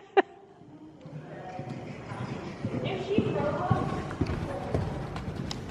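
A horse moving through an arena at a canter, with soft rhythmic hoofbeats in the dirt close by. People talk over the footfalls.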